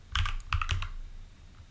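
Quick bursts of close computer keyboard typing, a few clustered clicking keystrokes in rapid groups, then quieter room tone with no speech.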